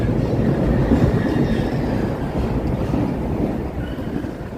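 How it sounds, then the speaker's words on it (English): A Chicago L elevated train passes along Lake Street toward State/Lake station, a loud, continuous rumble of wheels on the elevated track with faint squeals, heard alone without talk. "Here comes an L train coming down the Lake Street,"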